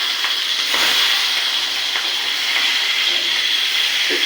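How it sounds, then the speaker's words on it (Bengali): Shrimp coated with turmeric, salt and chili sizzle in hot oil in a pan, giving a steady, loud, continuous frying hiss throughout with faint crackles and spatters. "এই হালকা একটু ভাজি করে নিচ্ছি"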